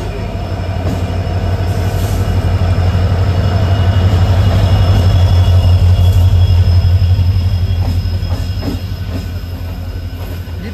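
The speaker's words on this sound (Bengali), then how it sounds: "এই যে হাওড়ায় ঢুকছে উপাসনা এক্সপ্রেস, হাওড়া দেরাদুন, পুরোটাই LHB কোচ।" Upasana Express, the Howrah–Dehradun train made up entirely of LHB coaches, rolls into Howrah station with a loud, steady rumble and rattle of wheels that builds toward the middle, with squeals and clatter over the rails.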